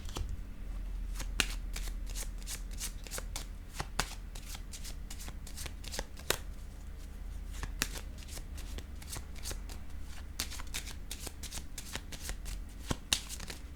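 Tarot cards shuffled in steady riffling bursts, a dense run of crisp flicks and snaps close to the microphone, with no talking over them.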